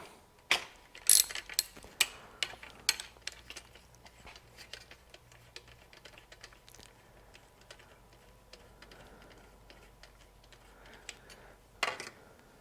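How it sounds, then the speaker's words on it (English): A ratchet with a 5/8 spark plug socket loosens the spark plug on a Troy-Bilt TB635EC 4-cycle string trimmer, giving quick, faint clicking in bursts early on and again near the end, with quiet handling in between. "It is held on with a 5/8 spark plug socket."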